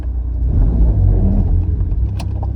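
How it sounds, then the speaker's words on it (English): A car fitted with a cheap machined T51R mod turbo pulls away, its engine giving a loud, close, low rumble that holds steady throughout. "so let's go for a drive"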